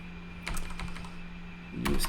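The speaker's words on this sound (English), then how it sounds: "how to type using the keyboard into the scratch pad" Someone types on a computer keyboard while using the scratch pad in a DCS A10C flight simulator, a few quick clustered key clicks, then a louder burst near the end, over a faint steady hum.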